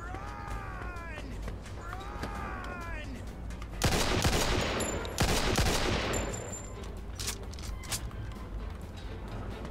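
Gunfire in the video game Mafia 2, a sudden loud burst of rapid shots partway through, with a second volley close behind, set against quieter game ambience and scattered speech.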